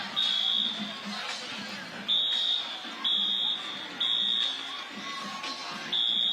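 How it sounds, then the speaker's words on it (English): Fire alarm at a high school football playoff stadium sounding in repeated loud high-pitched beeping bursts about once a second, over crowd murmur and nearby voices. "And now the fire alarm is going off."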